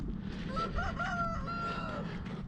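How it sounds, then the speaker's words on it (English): A rooster crows one drawn-out call over steady background clucking from chickens, moderately close with no talking. "Oh, chickens."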